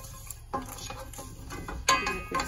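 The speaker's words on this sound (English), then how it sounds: "Going to add the curry leaves and the green peppers." Curry leaves and green peppers being sautéed in a pan, with soft sizzling under clinking and scraping of a spoon against the pan, several sharp metallic knocks, no voices.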